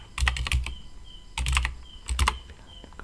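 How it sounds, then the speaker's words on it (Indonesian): Password typed on a computer keyboard during a Proxmox 6.2 installation: quick bursts of crisp key clicks in three clusters with short pauses between, close and clear with no talking. "kemudian ketikkan password"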